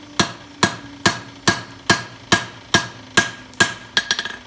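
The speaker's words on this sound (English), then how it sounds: "Now we're going to rivet. Turn this over, we got the rivet hot." Hot rivet being hammered on its locking side, about eleven sharp metallic blows at a steady pace, slowing then ending in a quick burst of lighter taps, close and loud with no talk.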